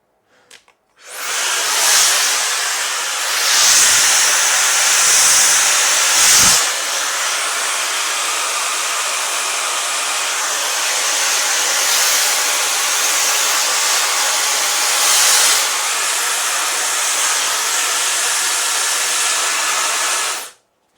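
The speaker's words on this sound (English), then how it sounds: "Let's check out this little diffuser thing here" A negative ion hair dryer with a diffuser attachment blows steadily, a loud close broadband whoosh that starts abruptly after a brief click, holds for about twenty seconds with slight swells, then cuts off sharply.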